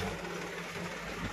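An Eicher tractor engine labours up a slope with a low, faint, steady rumble, heard without anyone speaking.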